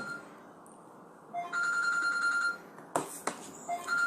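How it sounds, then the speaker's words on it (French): Telephone ringing in a room, a repeated electronic ring tone starting after a quiet second and sounding at moderate loudness, with a couple of short knocks or clatters near the end. "C'est la première fois que le téléphone sonne."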